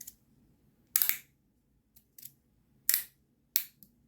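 A haptic feedback fidget toy gives sharp, crisp clicks, close up and isolated, falling in a steady pattern of short clusters with quiet gaps between them and no voices.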